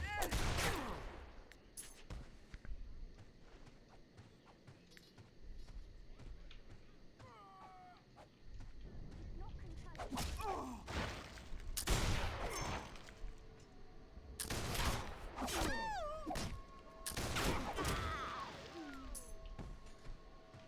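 Monster gunfire in the online fantasy game Warhammer Online plays as several loud, separate bursts of shots spread through the scene, mixed with game ambience, a few bird-like caws and occasional voices.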